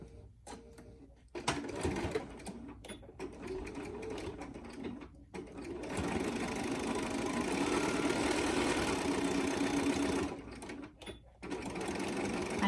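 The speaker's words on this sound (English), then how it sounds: "I backstitch because there'll probably be a lot more strain on these entrances to the elastic" A sewing machine stitches and backstitches a fabric face mask with a pocket at the elastic openings, its steady rapid clatter running nearly continuously with a few brief stops.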